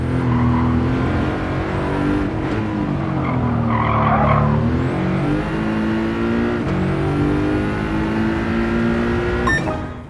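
Race car engine droning loudly in Gran Turismo 7 qualifying, pitch rising and falling through gears with brief tire skids, continuous and close throughout with no talking.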